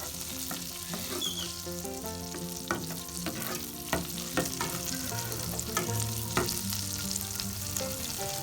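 Butter melting and sizzling in a pan over very low heat for lentil dahl, stirred steadily, with a continuous soft crackle and repeated light spoon scrapes and taps close by, no talk.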